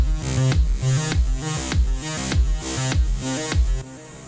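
A thumping synthwave main beat built in FL Studio, its pumping sidechained synths ducking under a heavy kick on every beat in a steady driving loop, loud and with no voices.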